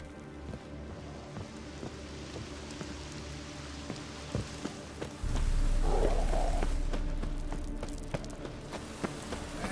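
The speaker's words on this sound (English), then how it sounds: "It's raining again." Rain falling in the video game Witcher 3, a steady soft patter across the scene, joined partway through by a louder low rumble that swells and then slowly fades.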